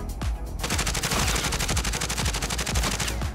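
Rapid automatic gunfire from Call of Duty Modern Warfare, dense bursts of close, loud shots after a single opening crack, continuing steadily for a few seconds without talk.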